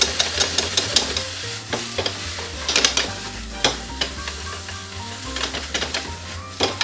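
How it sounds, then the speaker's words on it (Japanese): Yakisoba sauce sizzles loudly as it reduces on the hot edge of a frying pan while a utensil scrapes and stirs it into squid yakisoba noodles in repeated strokes, close up. "フライパンにスペースを空けてソースを鍋肌から投入"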